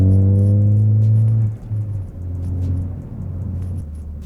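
Exhaust note from a 2013-2018 Ford Focus ST fitted with an ACCELATEC 3-inch stainless steel Extreme cat-back system, a steady low drone held at RPM, then easing off into a quieter rumble, close and alone.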